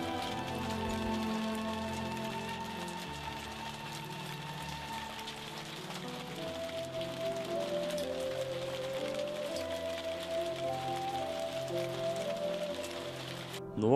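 Steady rain patters on a surface over a layer of soft background music, holding an even loudness throughout, with a brief louder burst at the very end.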